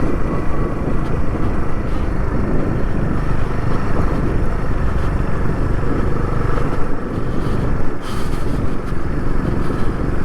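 A motorcycle rides off-road on a rough Himalayan mountain route toward Om Parvat, its engine rumbling steadily and loudly throughout amid wind and road noise, with no voices.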